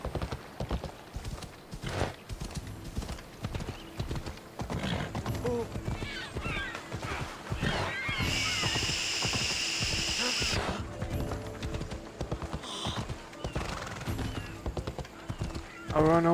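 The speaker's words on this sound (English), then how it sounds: "Where you at, horse? Come on," A horse named Phobos galloping in a video game, with rapid steady clip-clop hoofbeats throughout, a neigh partway through, and a voice speaking over the hooves.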